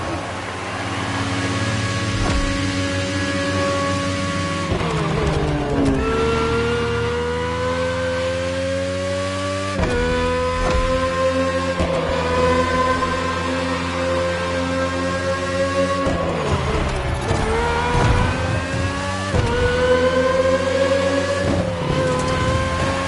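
A Red Bull RB20 racing car engine in The Crew Motorfest screams continuously at high revs, rising and dropping in pitch through repeated gear shifts, loud and sustained throughout.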